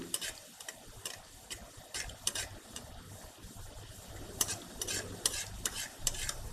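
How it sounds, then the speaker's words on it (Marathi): Puri made with sesame seeds deep-fries in hot oil, giving a steady crackling sizzle broken by bursts of spattering and occasional scraping of a utensil against the pan. "जास्तीत जास्त असं वरच्यावर तेल टाकून पुरी आधी तळून घ्या आणि मग तिला पलटवायची."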